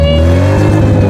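A Volkswagen Gol, an old boxy model converted to a convertible, hums loud and close at an engine idle or a gentle rev, steady and sustained with a strong low drone.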